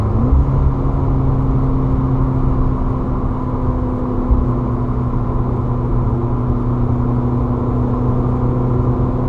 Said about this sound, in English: Let's do a paddle downshift.